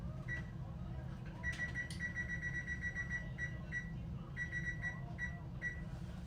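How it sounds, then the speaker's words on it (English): Repeated short electronic beeps from a kitchen timer being set, sounding in quick clusters up close over steady background hum and a faint voice. "So let me set that timer."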